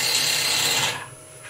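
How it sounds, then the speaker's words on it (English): Steel gouge cutting wood on a spinning lathe while a concave lip is shaped into the rim: a close, harsh rasping scrape for about a second, then dropping to a faint background whir. "twist away from the lathe, twisting my wrist over, so you can just see that gouge twisting anti-clockwise as we go"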